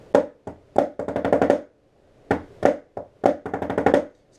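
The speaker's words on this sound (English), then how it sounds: "you drag out a 7-stroke roll." Snare drum played in a drum corps visual tutorial: two bursts of quick rhythmic strokes, each opening with a few separate hits and then dragging into a dense run of taps, repeated twice with a short pause between.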